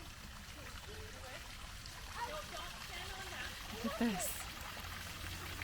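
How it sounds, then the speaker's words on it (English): Water pours from the mouth of a dragon fountain at Butchart Gardens, a steady trickling stream running under light outdoor ambience, with a person speaking briefly near the start. "The water just coming out of his mouth."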